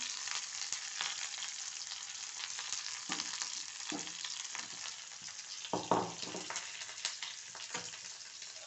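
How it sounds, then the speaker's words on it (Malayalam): Okra (ladies' finger) frying in a pan gives a steady, close sizzle throughout, with a few brief stirring scrapes and no talking. "വെണ്ടയ്ക്ക നന്നായി വറന്നിട്ടുണ്ട്"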